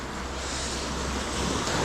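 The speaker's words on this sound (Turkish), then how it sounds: "Ya dalga çok ya bugün." Sea waves during lure fishing for salmon make a continuous broadband wash, roaring and close, mixed with gusty wind buffeting the microphone and slowly swelling toward the end.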